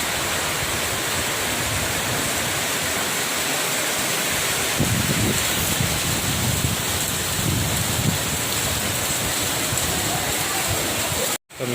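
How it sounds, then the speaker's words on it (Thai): Heavy rain pours steadily through the night during Storm Podul in Roi Et, Thailand, with flooding around a house by rice fields; a dense, loud, continuous hiss that swells briefly midway and cuts off abruptly near the end. "บรรยากาศฝนตกตลอดทั้งคืน"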